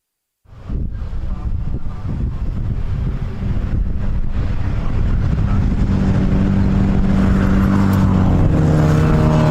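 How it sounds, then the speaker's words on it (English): Renault Clio Cup race cars pull away on a formation lap, a steady engine roar with heavy wind buffeting that swells and grows more tonal as the cars gain speed, with no talk. "The cars have already set off for the formation lap."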